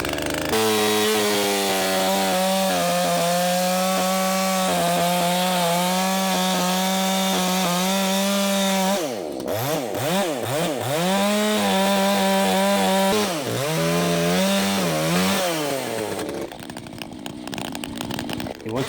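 An Echo CS-620P chainsaw cuts through firewood with a loud, close, sustained buzzing whine that dips and surges as the chain bites into the wood, then revs back up near the end.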